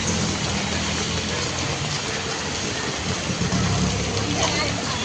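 Heavy monsoon rain pours down in a dense, unbroken roar on the way back from buying vegetables, loud and steady throughout, with voices talking underneath.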